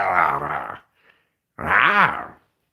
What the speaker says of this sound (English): This is little doggy.